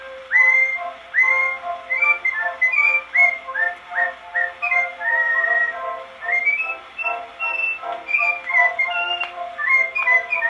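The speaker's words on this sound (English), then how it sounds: "he's happy when he whistles his tune" A man whistles a lively tune on an old recording, with clear melodic phrases in a steady bouncing rhythm running throughout, thin and narrow in tone with faint surface hiss underneath.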